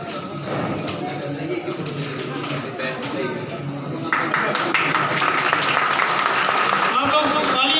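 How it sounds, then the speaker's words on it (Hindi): An audience at a farewell and welcome ceremony for education officials in Fatehpur claps steadily, and the applause swells louder partway through while someone speaks over it on a microphone. "आप लोग तालियां बजा करके स्वागत करते रहे।"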